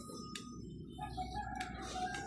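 A chicken on a farm clucking in short, faint tonal calls, with a few sharp chirps scattered over a quiet outdoor background.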